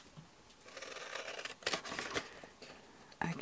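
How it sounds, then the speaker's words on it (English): Scissors snipping through paper while shaping a cubed dragonfly gift box, a few close, quiet cuts and crisp snips spread across a faintly noisy room. "So I'm going to cut at the bottom and mitre a little bit and then just cut"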